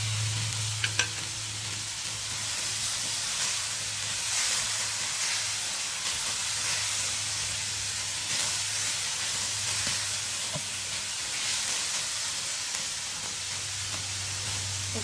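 Fermented black beans fry in a pan with bell pepper for a fish tausi dish, giving a continuous close sizzle and hiss with light stirring throughout and no talking.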